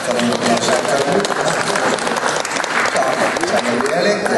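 Loud, sustained applause from a crowd at an awards evening, dense clapping that holds steady throughout without a break.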